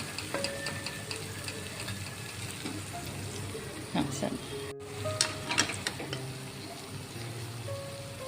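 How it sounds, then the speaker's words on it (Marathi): Spices sizzle and fry in hot oil for lasuni methi, garam masala, coriander powder, turmeric, salt and red chilli stirred in together; a steady close crackle with occasional stirring scrapes, no talk over it. "गरम मसाला धनेपूड हळद मीठ आणि लाल तिखट मी एकदाच टाकून घेतलेला आहे त्याला छान परतायचं आहे"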